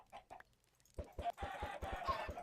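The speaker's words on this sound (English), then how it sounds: "So there'll be like random chickens all over the place up there." Chickens cluck in a Minecraft-style video game where eggs are thrown, rapid repeated clucks and flapping bursts following a couple of quiet clicks, fairly close and clear with no talk.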